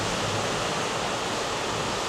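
Rain pours down steadily, a dense, even hiss of falling water that fills the whole clip at constant loudness, with no voices.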